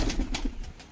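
Fighting-breed pigeons, including a black jogiya among a loft of quality birds, give a short, close coo over a busy background of rustling and soft bird noise.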